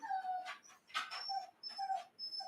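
A puppy whimpers and yips in a string of high, wavering cries, fairly close and fairly quiet, with short gaps between them and no talking.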